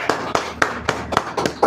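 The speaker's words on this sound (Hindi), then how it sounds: "एक बार आकृति के लिए जोरदार तालियां।" A handful of sharp, separate claps in a TV quiz show studio, about seven distinct slaps at an uneven rhythm, close and fairly loud.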